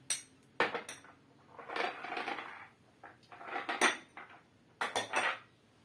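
A metal spoon mixes Moroccan sellou ingredients, including anise and cinnamon, in a bowl, giving repeated close clinks and scraping bursts separated by brief pauses, with no speech.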